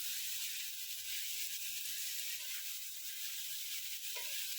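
Cabbage, capsicum and green chilli stir-fry for mixed noodles, a continuous bright sizzle and hiss from the pan with faint stirring scrapes, steady from start to finish.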